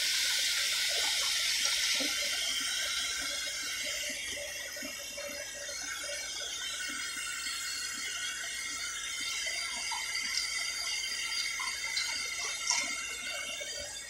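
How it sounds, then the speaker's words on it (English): Running tap water pours steadily over boiled peanuts being rinsed in a sink, a continuous close, fairly loud wash with faint splashes and no talk. "I don't want to wash it too much."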